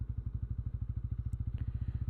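A 2026 Bajaj Pulsar N160 SS 4V motorcycle engine runs in gear with no throttle, its revs rising on their own in a close, steady, fast thumping beat.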